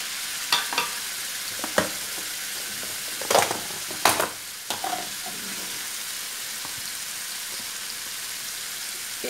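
Garlic paste fries in oil that is only moderately hot, giving a faint steady sizzle with a few scattered crackles and pops from stirring.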